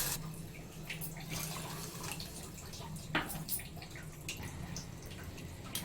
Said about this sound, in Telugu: కప్పు రాగిపిండికి 2 కప్పుల చొప్పున నీళ్ళు పోసుకుందాం.